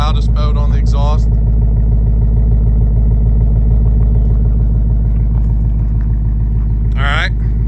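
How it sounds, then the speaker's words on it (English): A 2024 Ford Mustang with active exhaust in track mode idles loud and close, a deep throbbing rumble pulsing steadily throughout, with someone talking briefly over it at the start and end. "This is going to be the loudest mode on the exhaust."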